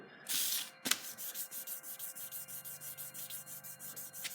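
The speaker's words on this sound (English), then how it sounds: "the 3 grits that I've used here are 220, 600, and 1000 grit." A chef knife is sanded by hand with sandpaper in quick, rhythmic back-and-forth strokes. The rasping is faint and close, with a sharp knock near the start and steady scraping pulses afterward.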